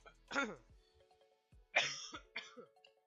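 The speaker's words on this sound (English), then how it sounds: "Just coughing everywhere" Two or three harsh coughs close to the mic, separated by short pauses, with a throat-clearing quality.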